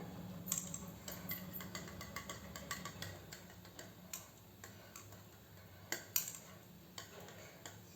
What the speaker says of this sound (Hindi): 2 अंडे में हमने थोड़ा सा नमक और पाव चम्मच से भी कम काली मिर्च पाउडर ऐड किए, इसे अच्छे से हम फेंट लेंगे।